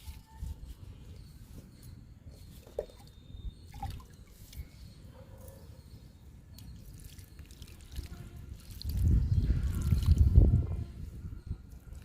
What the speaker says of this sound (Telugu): ఇప్పుడు వాటర్ ఇచ్చేద్దామండి ఈ 3 కొమ్మలకి